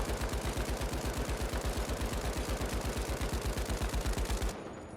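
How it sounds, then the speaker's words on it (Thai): An M60 machine gun in the shooter game The Finals fires a long, rapid, steady burst of loud shots that cuts off abruptly near the end, with no voices. "นี่คือรีคอยของ M60"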